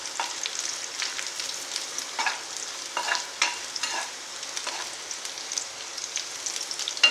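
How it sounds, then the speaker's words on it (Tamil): Food fries and is stirred in a pan until golden while beetroot masala is cooked, a steady close sizzle broken by repeated scraping strokes of a spoon against the metal. "பொன்னிறமாக வர்றது வரைக்கும் கொஞ்சம் நேரம் வறுத்துக்கிட்டுருங்க."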